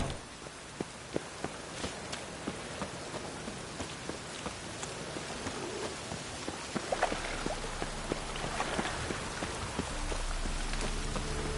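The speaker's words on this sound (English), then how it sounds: "Looks like rain." Steady rain in The Witcher 3 video game patters on a surface nearby, with scattered individual drops ticking over a soft continuous hiss.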